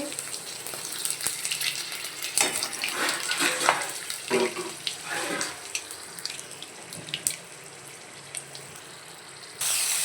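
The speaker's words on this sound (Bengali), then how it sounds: "তেজপাতা ফোড়ন দিচ্ছি, কাঁচা লঙ্কা ফোড়ন দিচ্ছি, কালো জিরে ফোড়ন দিচ্ছি" Bay leaf, green chilli and nigella seeds sizzle in hot oil for a taro leaf curry, a crackling, uneven hiss with sharp pops that swells in the middle and then fades to a quieter simmer.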